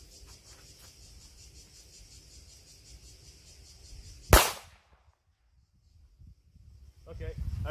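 A single .45 caliber pistol shot fired at about five meters during a bulletproof material test: one sharp, loud crack that rings out over quiet background chirping, followed by near silence and then rising noise.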